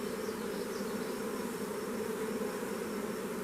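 Honeybees buzz in a dense, continuous drone around an opened hive during an inspection, loud and steady throughout with no pauses or voices.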